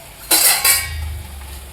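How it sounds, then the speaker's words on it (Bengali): A spoon clatters twice against a pan while eggs are stirred and browned in spice masala for egg curry, two sharp scraping bursts close by, followed by a low, quiet simmering rumble. "ডিমগুলো দিয়ে একটু কষিয়ে নেব"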